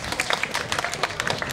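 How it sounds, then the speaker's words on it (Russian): Audience applause after a group dance performance, steady clapping from a crowd lasting the whole short stretch at moderate level, with no talk over it. "аплодисменты еще раз"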